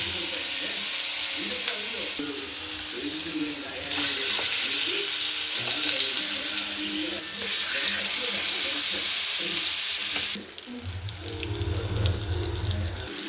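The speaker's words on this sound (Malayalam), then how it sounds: "നമുക്ക് പാനിൽ വറക്കാനായിട്ട് ഇട്ട് കൊടുക്കാം" Kalanchi fish (barramundi) frying in a pan, a steady loud crackling sizzle throughout with a few clinks, and a burst of stronger spitting near the end.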